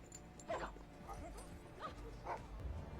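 A dog in a TV show gives several short yips and whimpering barks at irregular moments, fairly faint under a low background hum.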